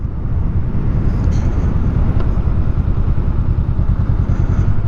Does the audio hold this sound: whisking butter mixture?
no